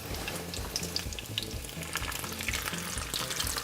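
Beef taquitos fry in hot oil with a dense, continuous crackle and bubbling sizzle, with scattered sharper pops over a steady bed of frying noise.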